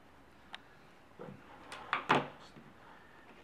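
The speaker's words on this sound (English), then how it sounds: "This is a drawer of random connectors." A workshop drawer full of loose connectors slides open and shut, giving a few close, short knocks and a rattling thump near the end, with quiet room noise between them.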